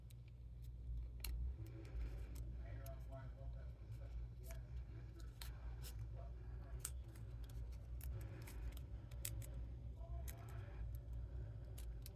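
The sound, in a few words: scissors trimming die-cut paper for Christmas card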